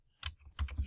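Someone types on a computer keyboard while editing page content: three or four quick, close, light key clicks in a short burst.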